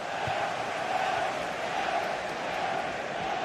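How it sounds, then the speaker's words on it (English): A football crowd late in a match in a racing-game league broadcast, a continuous dense roar of massed voices at steady level with no individual speech. "The crowd certainly think so. Just listen to that noise."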